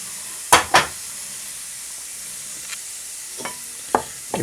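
Rajma masala with fresh tomato and a splash of water stirred in a hot pan: two sharp scraping stirs, then quieter scrapes and clinks over a soft continuous sizzle, close and without talk.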